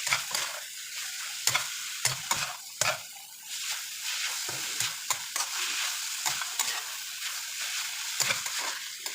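Vegetables for pancit sizzle and fry in a pan, with repeated sharp scrapes and clacks as they are flipped and stirred, the steady hiss filling the background throughout.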